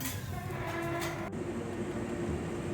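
Continuous rumble and hum inside a moving train in Japan, with a steady low drone and a sharp click partway through.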